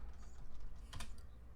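Quick bursts of typing on a computer keyboard during a tabletop Dungeons & Dragons session, a few close, crisp key clicks with a denser flurry near the middle, heard alone.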